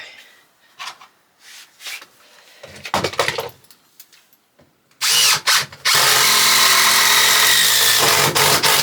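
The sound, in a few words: power drill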